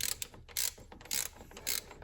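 A ratchet with a flex socket works a fastener loose on the coolant crossover of a 2014 Honda Accord four-cylinder, giving about four quick bursts of close, sharp clicking strokes.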